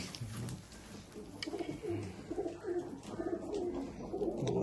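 Taddy golden Sialkoti pigeons coo in a steady run of soft, low, rolling calls that keep going without a break, fairly close and moderately loud, with no talking.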